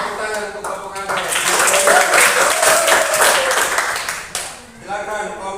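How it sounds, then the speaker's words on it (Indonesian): A classroom claps for a student group after its presentation, with a burst of applause lasting about three seconds, framed by a voice speaking just before and after. "Tepuk tangan untuk kelompok anggrek."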